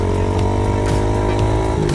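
A heavy motorcycle engine holds a steady, loud, droning note during wheelie riding, close by and continuous, with faint clicks on top and no talk over it.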